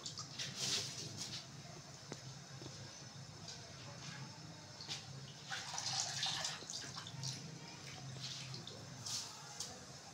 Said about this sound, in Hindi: पानी उबलने लग गया तब हम इसके अंदर चावल डाल देंगे।